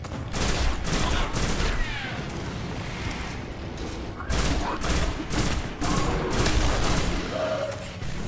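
Gunfire in the video game Destiny rips out in dense, rapid bursts of loud close shots and thumps, with brief pauses between the volleys and no voice above it.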